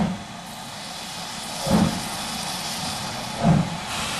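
Steam locomotive pulling away from a station by a level crossing on the Goathland to Grosmont line in the North York Moors: a steady background hiss broken by two slow, heavy chuffs about two seconds apart.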